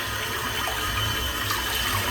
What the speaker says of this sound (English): Spilling water everywhere